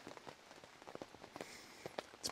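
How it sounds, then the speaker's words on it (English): Steady, soft patter of raindrops drums on a camping tent close by, with a few slightly louder drips standing out. "Sorry about the noise from the rain."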